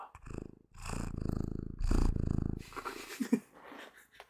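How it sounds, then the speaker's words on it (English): A little kitty held right up to a microphone purrs in a loud, close, rumbling rhythm of repeated breaths, then the purr thins into softer snuffles and small clicks near the end. "You're such a little purr monster, little kitty."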